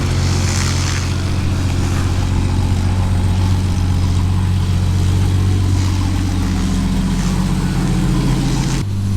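A 1988 Jeep Wrangler YJ on 40-inch tires, stuck in four-low, runs with a steady, loud, low engine rumble, close by and unbroken, ending in a sudden cutoff.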